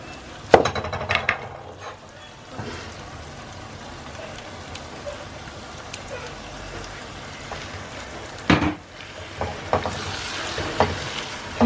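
A softened onion mixture frying in a pan for egg korma is stirred, with a steady sizzle underneath and clattering scrapes from the spoon at the start, again later, and near the end.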